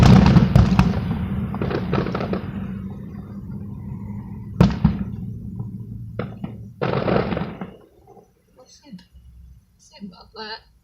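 Fireworks finale over Sand Springs, Oklahoma: a rapid cluster of loud booms and crackles at the start, then a few spaced heavy bangs, fading to quiet with distant crowd noise and people talking nearby.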